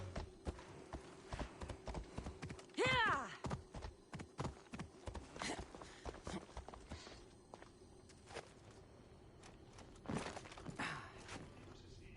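A horse gallops in Assassin's Creed Odyssey, its hooves pounding in a fast, uneven clatter. A short whinny-like cry comes early, and the hoofbeats carry on at moderate volume over game ambience.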